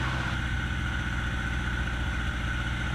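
Piper PA-18 Super Cub aircraft engine running steadily during a pre-flight run-up, a loud continuous drone with a constant pitch and no speech over it.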